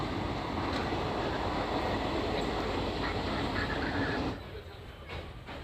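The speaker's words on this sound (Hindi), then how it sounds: "और ये है विशाखापट्टनम सिकंदराबाद एक्सप्रेस, गरीब रथ एक्सप्रेस।" The Visakhapatnam–Secunderabad Garib Rath Express runs on a parallel track in India, a loud, continuous rumble and roar close by that drops off noticeably near the end.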